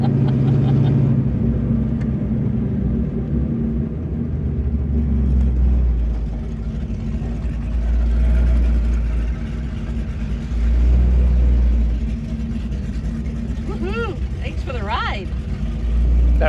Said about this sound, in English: Shall we open up the dumps again so Tom can hear us coming